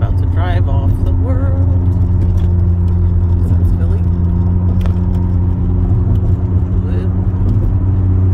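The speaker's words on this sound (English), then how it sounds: "Wow, this car is loud." A loud car engine rumbles steadily nearby at a seaside spot in Wildwood in the morning, a strong low drone holding the whole time, with faint background voices.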